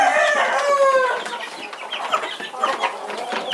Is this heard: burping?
no